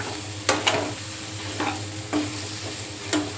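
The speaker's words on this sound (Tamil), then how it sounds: "இந்த மாதிரி கட் பண்ணி போட்டுட்டு நல்லா இதை வந்து பரட்டி விட்டுருங்க" Cut tapioca (maravalli kizhangu) poriyal is stirred in a pan, with several spaced scrapes and clatters of the spoon over a steady low hum and faint sizzle, close and moderately loud.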